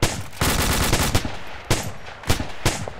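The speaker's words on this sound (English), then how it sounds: "Thanks, but keep firing, mate." Sustained automatic gunfire in a combat game, loud close bursts of rapid shots broken by brief pauses and then resuming in several sharp volleys.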